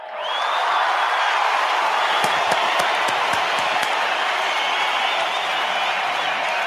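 Loud, sustained studio audience applause and cheering greeting a guest on a talk show, a dense wash of clapping that swells in quickly and holds steady, with a few sharper claps standing out.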